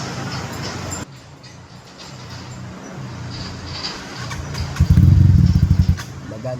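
A light motorcycle rolls across a swaying hanging bridge, its engine droning steadily with a rattling, clattering surge near the end as the deck planks rumble underfoot; voices chatter faintly beneath.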